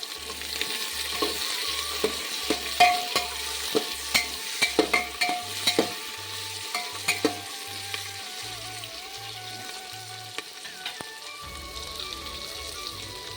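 Eggplant and potatoes fry together in a pan, a faint continuous sizzle with repeated scraping clicks and taps of stirring spread across the clip, no voices, and a low hum toward the end.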